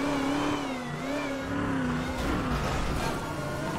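A blue Lamborghini engine revs in a video game, a steady mid-pitched drone with rising and falling pitch sweeps, loud and continuous for the whole stretch, with no talk over it.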